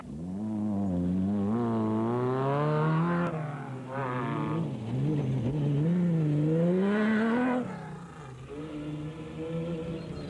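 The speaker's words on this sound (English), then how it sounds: "Schilling and Davies get the Plastotech Aceco on the move again as they are passed by the Algoa scrap metal Mighty Mag single-seater of Gary Goldschmidt" Off-road race cars at the Lesotho Sun 400 in 2005, including a Mighty Mag single-seater passing, engines revving and shifting through gears with rising and falling pitch, loud and close throughout.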